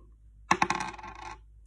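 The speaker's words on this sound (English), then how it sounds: "I'm going to roll my dice again" Dice rolled onto a hard surface for a tens-frame subtraction lesson: a sharp clatter followed by several quick bouncing rattles that die away within about a second, close and alone.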